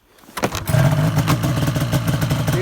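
An 850 Khaos engine fires up after an electrical wiring repair, then settles into a loud, close, rough-running idle with rising revs and a clattering mechanical texture.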